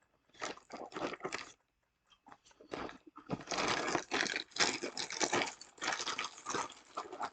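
Close, crisp crunching and chewing of Cinnamon Toast Crunch cereal in a bowl of milk, in repeated bursts of bites separated by short quiet gaps.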